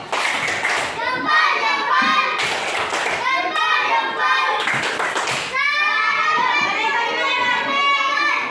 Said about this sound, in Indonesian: Tepuk salut dulu untuk mereka.